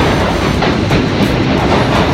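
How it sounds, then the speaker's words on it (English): A loud, close train rumbles past with a dense roar and rhythmic clickety-clack of wheels on the rails, no voices. "There are trains though."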